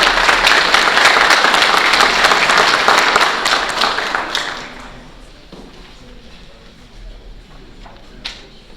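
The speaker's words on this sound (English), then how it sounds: "So let's give him a big round of applause." An audience at a school district board meeting applauds a state-champion piccolo player, giving a loud, dense burst of clapping that fades after about four seconds into a quiet room with scattered claps and small noises.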